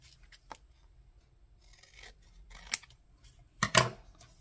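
Scissors snip through a paper Christmas gift tag at a desk, a few quiet separate cuts with a louder rasping double snip near the end, alone in a hushed room.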